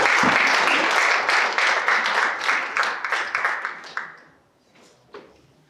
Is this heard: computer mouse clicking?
no